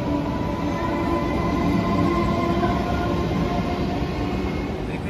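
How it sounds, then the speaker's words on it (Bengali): The Kamrup Express pulls out of Ambika Kalna station with a loud, continuous rumble of wheels and carriages close by, a thin squeal riding over the steady roar. "দেখতেই পাচ্ছেন ট্রেন ছেড়ে দিল"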